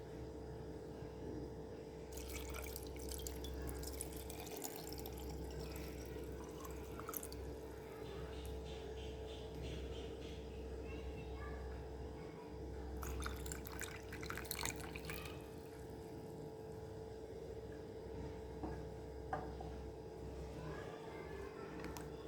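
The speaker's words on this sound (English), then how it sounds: "Now I'm gonna add water." Water is poured into a jar holding cucumber, lemon and orange slices for infused water, with two bursts of splashing pour over a steady low background hum.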